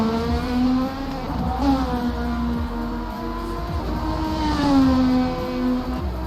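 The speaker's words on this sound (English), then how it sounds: "the engine does sound a little bit louder than my voice" Race car engine in a motor racing sim game at an Indianapolis Grand Prix, a loud steady high-revving drone that rises and falls with gear changes and throttle, continuous throughout with no talk over it.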